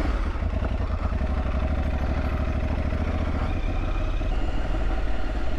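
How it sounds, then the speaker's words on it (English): A motorcycle engine runs steadily after the ignition is switched on, with a close, rapid low pulsing throb that carries evenly through the short stretch with no voices. "I might need to turn on the ignition"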